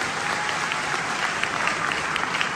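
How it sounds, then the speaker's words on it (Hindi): An audience applauds the Indian Army at a motivational speech event, a dense, steady wash of many hands clapping at once with no gaps, holding a loud, even level throughout. "एक बार जोरदार ताली इंडियन आर्मी के लिए।"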